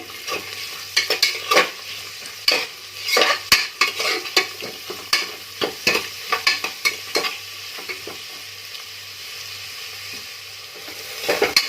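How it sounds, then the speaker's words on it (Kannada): Onions fry in a pan for vegetable biryani, giving a steady sizzle broken by repeated sharp scrapes and clacks of stirring that come close and clear, with no voices. "ಈರುಳ್ಳಿ ಹಾಕ್ಕೊಂಡು ಅದನ್ನು ನೀಟಾಗಿ ಫ್ರೈ ಮಾಡ್ಕೊಳ್ಳಿ"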